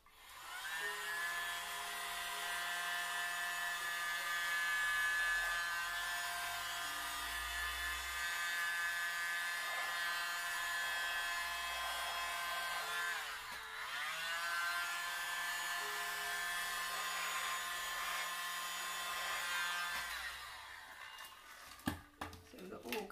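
Hair dryer blowing acrylic pour paint, a continuous loud whirring hum that dips briefly midway and cuts off near the end, with faint rustling after it stops.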